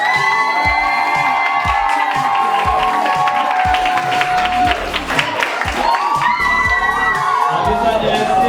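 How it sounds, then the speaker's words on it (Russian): A crowd at a school graduation ceremony in Omsk, Russia bursts into loud, sustained applause with cheers, whoops and children shouting, dense and continuous from start to finish. "Бурные аплодисменты."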